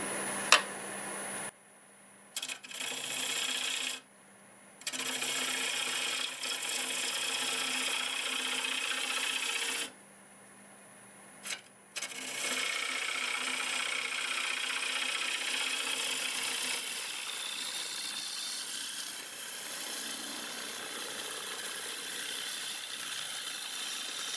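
A wood lathe spins a pear wood blank with a knot, a steady whirring hum and scraping cut that stop twice briefly before resuming, no voices.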